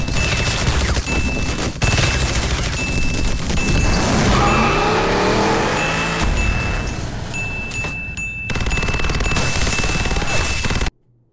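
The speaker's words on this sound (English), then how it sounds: "the first real gunfight cuts between Barry and the sniper" Dense gunfire from a gunfight scene in the TV series Barry, with rapid bursts of shots, booms and crashes layered over a loud, continuous action soundtrack before an abrupt stop.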